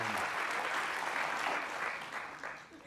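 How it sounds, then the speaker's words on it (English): An audience at an interview session with Soundgarden's Chris Cornell claps in a short, fairly soft burst, a dense patter of many hands that fades out after a few seconds. "you can clap"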